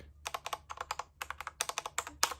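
Rapid clacking of a mechanical keyboard, keys struck in quick uneven bursts with short pauses, close and crisp, no voices.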